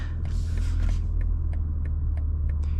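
A 2025 BMW M4 Competition fitted with downpipes, an SST valve controller and an Arms midpipe, exhaust valves fully closed, gives a steady, deep, muffled rumble that stays even and close throughout, with faint light ticks above it and no talking.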